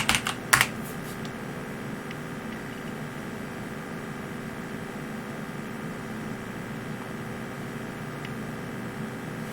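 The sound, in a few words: typing commands on a computer keyboard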